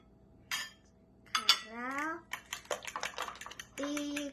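A young child chef mixes eggs with lime juice in a bowl for a fluffy Thai omelette. Soft utensil clinks and taps come up close, mixed with the child's chatter.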